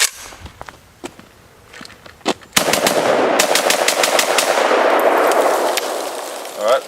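A VZ58 rifle fires outdoors, first a few scattered single shots, then a long rapid string of loud, sharp reports that ring and echo, ending in a final burst.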